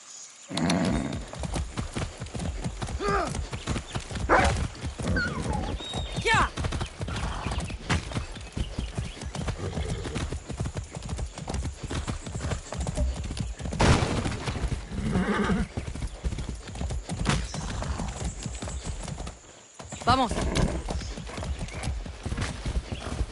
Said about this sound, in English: Be nice, horse.